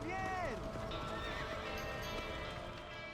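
A horse in the Red Dead Redemption video game gives a loud, falling whinny over the clip-clop of hooves, and a voice speaks over the sounds.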